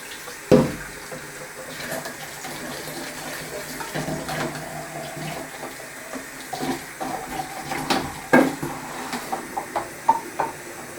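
Tap water runs as a beer kit can is rinsed under it, with a steady flow broken by knocks and splashes that grow busier toward the end.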